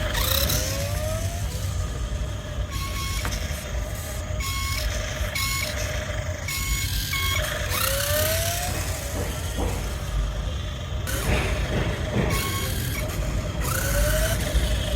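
A battery-powered toy car drives about while playing electronic sound effects: repeated beeping tones, rising chirps and a buzzing imitation engine over a constant steady hum, close and fairly loud throughout.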